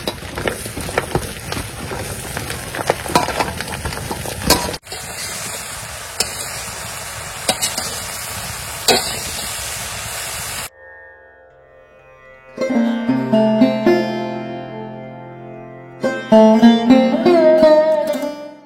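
Taro leaves go into a pan with fried hilsa fish heads, with close clattering, scraping and stirring noises over a faint sizzle, then the kitchen sound cuts away to soft music.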